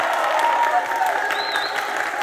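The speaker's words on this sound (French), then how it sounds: "ils ont besoin de vos applaudissements" A crowd applauds briefly, a steady patter of clapping with a faint high tone over it, lasting about two seconds.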